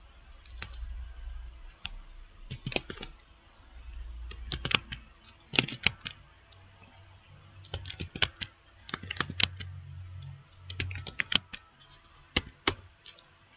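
A computer keyboard clacks out an Angular CLI command in a terminal, with clusters of crisp keystrokes separated by short pauses. The typing is close and fairly quiet against a low hum.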